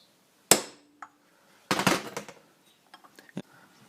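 A few sharp hammer taps driving a lip seal into place on a DT400D, spaced irregularly, one quick cluster of knocks in the middle, close by in an otherwise quiet space.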